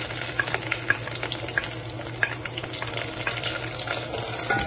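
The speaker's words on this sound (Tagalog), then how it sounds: "Igigisa ko lang yan. Igigisa natin." Onions sauté in hot oil for a sardine and sweet potato leaf dish, a continuous crackling sizzle with small pops, close and even throughout.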